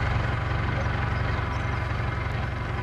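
A threshing machine runs continuously, a steady mechanical rumble with a fast regular pulse and broad noise, loud and unchanging with no talk.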